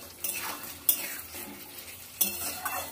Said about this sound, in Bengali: একটু সময় ধরে কষাতে হবে যতক্ষণ মশলা থেকে তেলটা ছেড়ে না যায়।